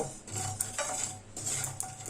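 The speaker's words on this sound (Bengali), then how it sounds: "ফ্রাই প্যানে এই চামচের দুই চামচ জিরে দিয়ে দিলাম গ্যাসের ফ্লেমটা লোতে রেখে আস্তে আস্তে নেড়ে চেড়ে জিরেটাকে ভেজে নেব" Two spoonfuls of cumin seeds stirred with a spoon in a frying pan over a low gas flame, with soft repeated scraping strokes and a faint background hum, quiet and close.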